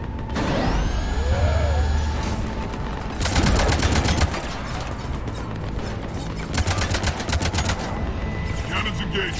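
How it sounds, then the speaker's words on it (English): Rapid bursts of heavy mechanical cannon fire from Mass Effect 3 in two long volleys, loud and close, mixed with whirring machinery and a rising electronic tone. "Cannons engaged."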